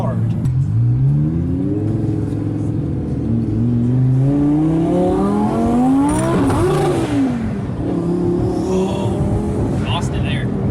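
A 1200-horsepower twin-turbo Audi R8 accelerates hard, its engine roaring loud and close as the pitch climbs through a gear, dips at a shift and rises again, with excited voices talking over it.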